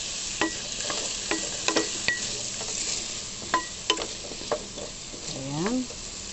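Squash frying in a pan alongside onions as it is stirred, giving a steady close sizzle broken by a few sharp utensil scrapes, with a brief voice near the end.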